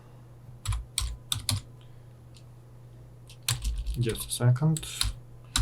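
Quick bursts of typing on a computer keyboard while coding an Android Kotlin app, sharp clustered key clicks with pauses between, close up, and someone speaks briefly over the final burst.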